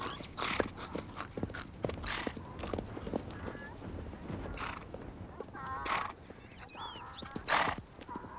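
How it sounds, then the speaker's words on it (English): Wild stallions and mares in desert steppe during the April mating season: hooves clip-clopping and galloping at a distance, with repeated shrill whinnies and neighs rising over the scene, some near and loud, others faint. "The stallions round up harems of mares."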